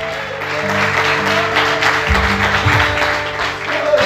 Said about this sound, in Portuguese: Você pode aplaudir o Senhor, aleluia!